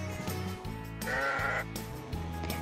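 A sheep bleats in a children's story, a short wavering cry rising clearly over a soft musical backing, heard once near the middle of the brief clip.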